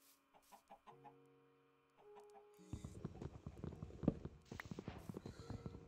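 Chickens cluck in a Minecraft-style video game, several short soft clucks early on, then busier blocky footsteps and clucking with tonal game sounds, fairly quiet overall.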